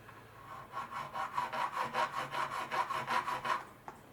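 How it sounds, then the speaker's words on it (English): A steel file rasps across the metal of a Spanish cavalry carbine in about a dozen steady back-and-forth strokes, close and even in rhythm, with no talking. "I'm not going to use the Dremel, I'll just use a file"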